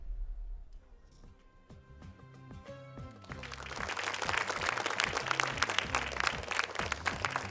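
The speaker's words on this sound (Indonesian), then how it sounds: "Boleh tepuk tangan sekali lagi untuk Nazila Manado" Audience applause for a Quran reciter at a recitation competition, swelling into dense, sustained clapping from a crowd after a quiet start, with soft music underneath.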